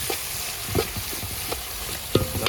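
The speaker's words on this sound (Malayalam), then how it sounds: "അതുപോലെ ഒന്ന് ഇളക്കി കൊടുക്കാം." Tomatoes, onions and curry leaves fry in a pan, making a steady close sizzle while a spoon stirs with a few distinct scrapes and clinks.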